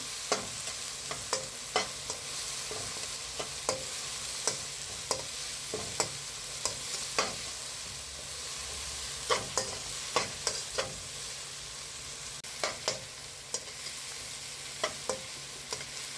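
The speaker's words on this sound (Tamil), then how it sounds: "இதிலே கொஞ்சம் உப்பு போட்டுக்குவோம் கல் உப்பு வெங்காயத்தை விதக்கி விட்டுக்கணும்" Onions sauté with rock salt in a pan for egg gravy, a steady soft sizzle broken by frequent light scrapes and taps of a stirring spoon, close and moderately quiet with no talking.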